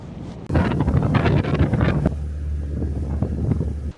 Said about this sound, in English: it's rather windy up here